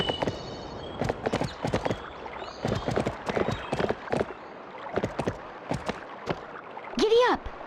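Galloping horse hooves in Barbie Horse Adventures: Wild Horse Rescue on PS2, irregular bursts of sharp hoofbeats splashing as if through water, close and fairly loud, ending with a rising whinny-like call.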